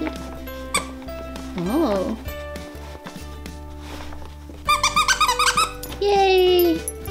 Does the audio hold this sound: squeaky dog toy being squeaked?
yes